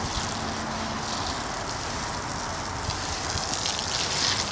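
Water runs steadily on a rooftop where bathing is done, a continuous close splashing and rushing that never pauses.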